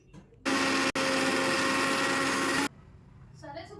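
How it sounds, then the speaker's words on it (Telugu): A mixer grinder blends coriander chutney in a loud, steady whirring burst of about two seconds with a brief stutter near the start, then cuts off to quiet room sound and a little speech. "చక్కగా మిక్సీ గిన్నెలో మార్చుకున్నాం. ఇప్పుడు రుబ్బేస్తాం."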